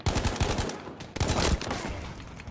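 Gunfire in Battlefield V, a burst of loud, close shots in the first second, a short pause, then another rapid volley that trails off into echoing reverberation.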